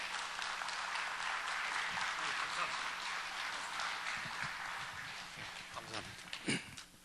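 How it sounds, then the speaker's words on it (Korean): Applause from a conference audience welcoming a professor to the podium for a keynote on family worship, dense clapping filling most of the stretch before fading as a voice begins near the end. "박수로 환영해 주시면 감사하겠습니다."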